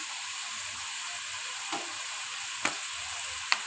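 Chicken fries in a pan with a steady, close sizzle, seasoned with salt and red food colour, while a few sharp scrapes and clinks mark it being stirred.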